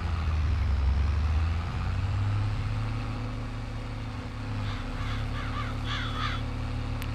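In Farming Simulator 22, several crows caw in quick bursts near the end of the clip, over the steady drone of a farm truck engine idling and rumbling nearby.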